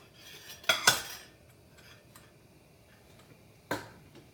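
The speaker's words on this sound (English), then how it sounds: "you want to stir it continually" Spoon stirring milk, cocoa and butter in a pot for no-bake cookies, heard as a few metallic clinks and scrapes against the pot between quiet stretches, close by with no talking.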